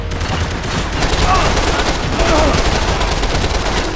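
Heavy automatic gunfire in a Max Payne 3 shootout in São Paulo, loud continuous rattling bursts from several weapons blending into a dense, unbroken fusillade.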